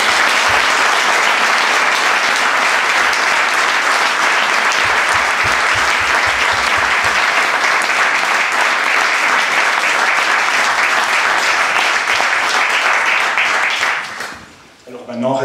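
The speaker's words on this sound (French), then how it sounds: "Je propose qu'on applaudisse les 2 échevins sortants." Sustained, loud applause fills a municipal council chamber in Dalhem as the two outgoing aldermen are honored, steady clapping from many people for about fourteen seconds before fading out abruptly.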